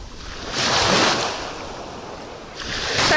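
Calm sea waves wash against a breakwater, with a close, hissing surge that swells, fades and swells again, and a little wind across the microphone. No voices are heard.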